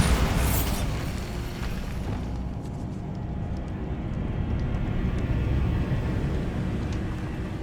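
A Bombarda spell blast in Hogwarts Legacy bursts loudly at the start, then settles into a long rumbling, roaring tail that stays steady and dense.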